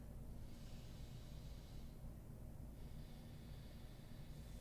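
Deep breath drawn in and out through the nose during a yoga flow, a steady close airy hiss rising and falling over a constant low background rumble, with no talking.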